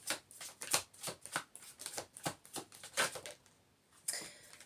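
Tarot cards being shuffled during a Sagittarius tarot reading, a quick run of crisp papery riffles and flicks in close, fairly soft bursts, easing off before one last snap.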